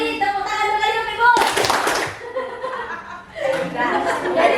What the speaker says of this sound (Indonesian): 2 kali tepuk tangan 2 kali Bapak Ibu.